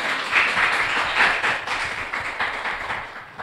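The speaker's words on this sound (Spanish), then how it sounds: "por favor un aplauso más para la presentación de Laura" An audience at a university literary panel applauds after a presentation, a dense, continuous wash of many hands clapping close and loud, slowly thinning toward the end.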